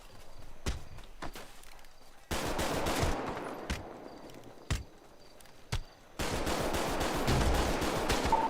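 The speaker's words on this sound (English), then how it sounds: "Shots fired, shots fired." Gunfire in GTA 5 during a police roleplay chase: a string of sharp, separate shots over steady background noise, with two louder, denser bursts of sustained firing.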